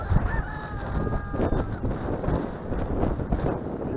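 A lavender-colored rooster crows on a farm amid his hens, the call faint under heavy wind buffeting the microphone, with scattered clucking around it.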